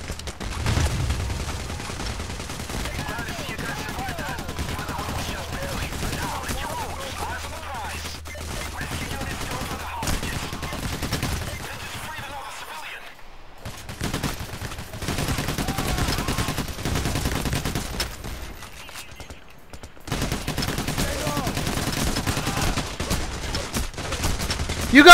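Gunfire from the video game Payday The Heist comes in dense, rapid bursts of automatic fire that rattle on for long stretches, broken by brief pauses.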